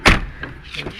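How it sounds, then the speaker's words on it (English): The door of a 2008 Jeep Grand Cherokee clicks open with a sharp latch release at the start, followed by a few softer knocks and rattles. "Let's see if the door will open now."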